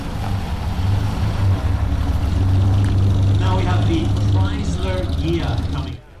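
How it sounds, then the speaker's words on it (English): A Chrysler Ghia rolls past at the Concorso d'Eleganza 2017 car show, its engine giving a steady, fairly loud drone that fades out near the end, with indistinct crowd voices mixed in. "Now we have the Chrysler Ghia coming."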